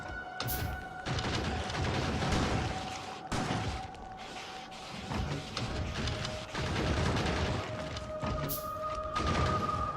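Automated gun turrets firing in Factorio, a dense, steady burst of rapid gunfire and impacts lasting throughout, loud and close, with short breaks and electronic game tones over it.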